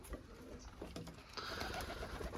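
Pigeons in a loft cooing softly, a faint low murmur of several birds under general room noise, with no talk.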